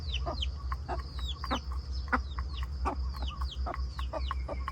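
Chickens feeding from a tray outdoors in a rainy garden cluck steadily in short repeated calls, with constant low rain or ambient hum beneath.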